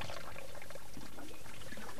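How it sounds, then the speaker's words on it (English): Water is poured while a woman cleans a jug at an open water source, a steady splashing pour with trickling over a noisy outdoor background. "First, she cleans the jug."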